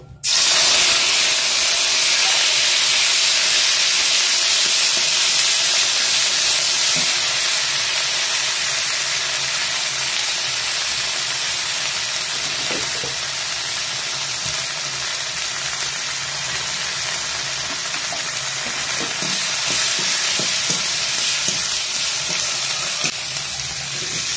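Spice paste for a tiger prawn curry frying in a pan, a loud, steady hissing sizzle that starts abruptly and holds nearly constant, easing slightly over time.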